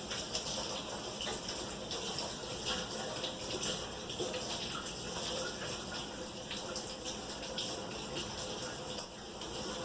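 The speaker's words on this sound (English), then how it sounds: "while I rinse my hands off a little bit" Tap water runs steadily into a sink as dough is rinsed off hands, a continuous close gushing hiss lasting the whole stretch without pause.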